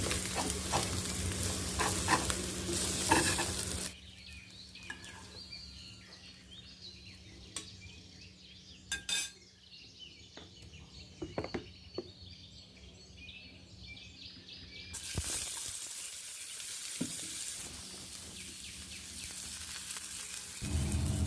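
Eggs fry in a pan, a loud hissing sizzle at the start that drops to a faint background with scattered small clicks, then swells back to a strong sizzle.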